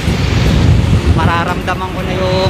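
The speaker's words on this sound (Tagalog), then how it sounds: "sobrang lakas ng hangin" Strong wind roars and buffets the microphone continuously on the old zigzag road (Bitukang Manok) in Atimonan, Quezon, with a brief voice-like tonal sound partway through.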